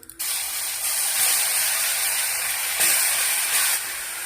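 Spice paste hits hot oil in a wok and bursts into a loud, steady sizzling hiss that starts abruptly and holds strong throughout, with no talking.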